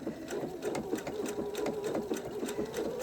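Domestic sewing machine running a blanket stitch along quilt appliqué, a fast steady mechanical rattle with rhythmic needle thumps, close and continuous throughout.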